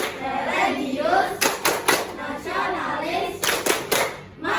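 A group claps out a rhythmic clap chant in bursts of sharp, evenly spaced claps, with voices chanting around them at a school gathering.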